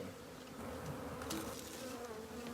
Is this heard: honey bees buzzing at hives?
yes